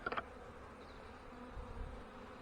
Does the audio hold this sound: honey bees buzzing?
yes